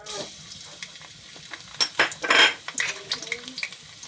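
Garlic dropped into a hot frying pan for simple pork giniling, bursting into a loud close sizzle with clinks of a utensil against the pan and stirring scrapes, no talking.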